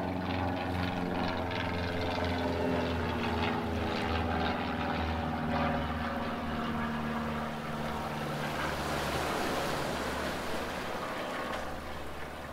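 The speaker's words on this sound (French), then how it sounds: "C'est bon, l'avion est parti." An airplane flies over a seaside shore during bait fishing for sea bass, a moderate broadband drone with low hum, swelling toward the end amid surf and wind.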